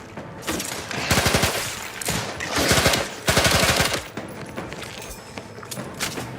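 Rapid bursts of pistol fire in The Outer Worlds 2, three or four loud volleys of fast repeated shots separated by short pauses, with game ambience between.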